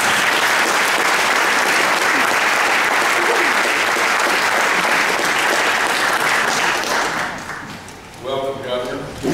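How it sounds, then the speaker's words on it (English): A lunchtime room crowd gives the governor a round of applause, loud and sustained, then fading out as a voice begins speaking near the end. "Everybody, you might leave me a round of applause."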